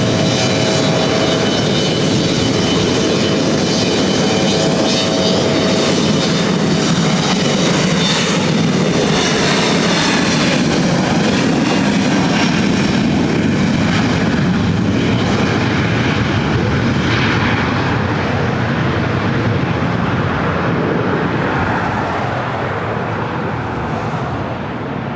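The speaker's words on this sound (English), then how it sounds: "It's flight 3812 SkyWest 134 Foxtrot taking off to Sacramento." A SkyWest Delta Connection regional jet takes off from LAX, its engines roaring loud and close in a broad, sustained rumble with rising whine that slowly eases off at the end.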